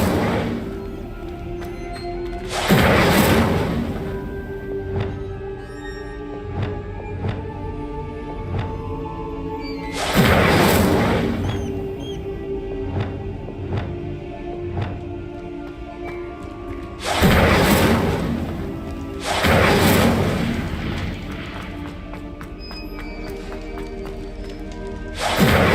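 Spell blasts in Hogwarts Legacy erupt as four loud whooshing bursts spaced several seconds apart over a game ambience with faint tones between them.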